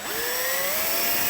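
A power drill spins up with a steady whine rising in pitch, boring into a Honda Grom part while fitting a quick release washer kit, close and continuous with a hissing edge and no voices.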